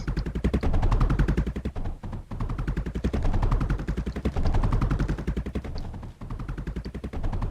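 Rapid, loud machine-gun-style gunfire from a bombing strike in the Mindustry video game, sustained fast bursts with brief gaps, close and dominant with no talking.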